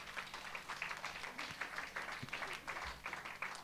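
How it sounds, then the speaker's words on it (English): Quiet audience clapping at an awards ceremony, a soft, fairly steady patter of many hands heard from a distance with faint room murmur underneath. "Please clap for her."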